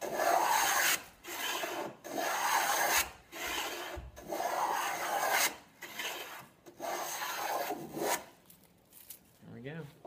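A half-inch ogee moulding plane cuts a profile into wood, five or six loud rasping strokes in a steady rhythm with brief pauses between them, heard up close.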